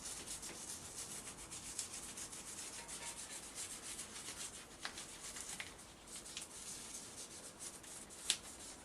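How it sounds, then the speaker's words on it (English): Soft, continuous rubbing and scrubbing as degreaser is worked into a part from a BMW F 650 GS motorcycle during strip-down and cleaning, a quiet close-up friction sound with occasional small clicks. "All I'm doing is rubbing in the degreaser."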